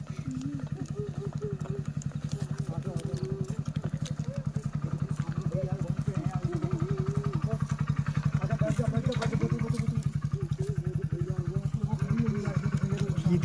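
A motorcycle engine idles steadily nearby with an even, rapid thumping pulse that runs unbroken from start to finish, with light clatter on top and no clear speech.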